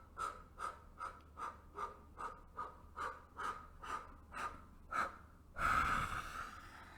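Forceful rhythmic breaths of bhastrika pranayama, about a dozen sharp, evenly spaced exhalations through the nose, close and loud, ending in a longer, deep rushing breath.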